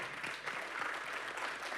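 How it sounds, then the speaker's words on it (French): Soft applause from an audience at a talk on extreme climate events, an even wash of clapping heard faintly for a moment. "On vous applaudit."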